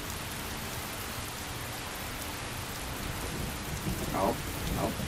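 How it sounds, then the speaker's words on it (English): Steady rain hiss with low rumbling thunder in the fantasy video game Skyrim, a constant wash of falling rain through the whole stretch with a couple of soft louder swells near the end. "The lovely rain."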